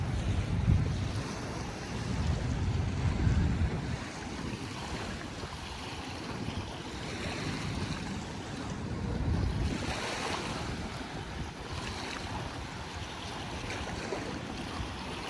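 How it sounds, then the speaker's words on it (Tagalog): Strong wind buffets the microphone on the Manila Bay shore at Dolomite Beach during a very high tide, gusting in waves over a constant roar of surf and open air, loud and close, with no voices. "mahangin nga po"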